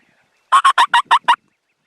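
A wild turkey gobbles close by during an opening-morning hunt: six quick, evenly spaced, loud notes in one burst, with no other sound around them.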